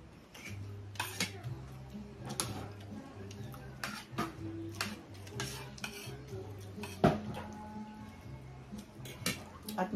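Pork giniling sautéed in a pan, with repeated metallic clinks and scrapes of a utensil against the pan in an irregular rhythm, close and fairly loud, over a faint background sizzle and low hum.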